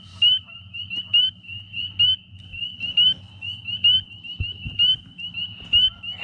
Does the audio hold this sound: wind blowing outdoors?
no